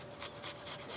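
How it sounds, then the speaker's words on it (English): A clove of garlic is grated, four quick rhythmic rasping strokes, close and crisp, with no talk. "And so we're gonna grate a clove of garlic, just 1. Go ahead and grate it up."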